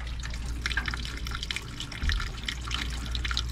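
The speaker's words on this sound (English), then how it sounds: "All right, so I just turned on the water." Water running and dripping through a ceiling below a bathroom shower and sink with a clogged drain, a steady broadband trickle and splatter heard close up with faint low hum underneath.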